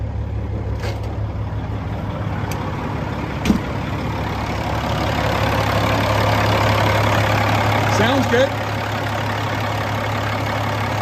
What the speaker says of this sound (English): Let's get this thing down to idle. Let's have a listen to it running